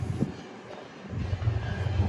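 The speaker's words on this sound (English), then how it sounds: "Train going over" A train rumbles across an overpass nearby, its low, heavy rolling noise building and swelling toward the end.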